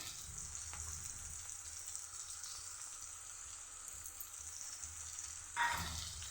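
Beans and potato frying in a pan give a steady, close sizzle that runs unbroken, with a brief louder stir or shift near the end.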